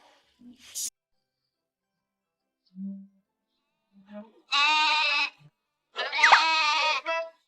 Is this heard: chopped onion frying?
no